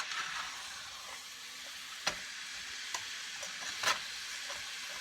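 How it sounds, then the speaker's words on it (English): Meat browns alongside a whole onion sautéing in a pan, a soft, steady sizzle and hiss up close, broken by a few sharp clicks and scrapes of stirring, with no one speaking. "we're going to brown the meat and saute the onion all at once"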